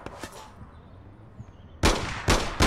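Gunshots in the APB Reloaded game, three loud, sharp cracks in quick succession near the end after a quieter stretch with faint distant pops.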